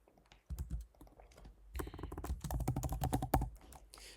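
Fast typing on a computer keyboard, a near, busy patter of key clicks after a short quiet start, without speech.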